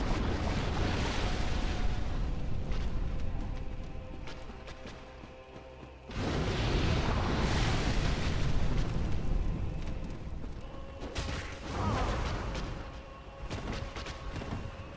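Quelaag, the spider-woman boss in Dark Souls Remastered, bursts in a long, loud roaring explosion with deep rumbling booms and crackling debris that surges again midway, filling the whole stretch without any voices.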